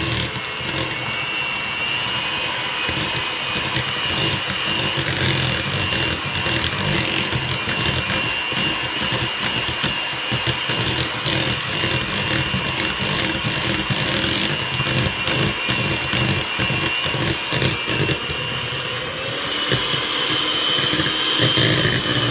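An electric hand mixer whirs steadily through cake batter made with oil, a continuous loud motor drone with a gritty, churning texture that holds nearly unchanged throughout.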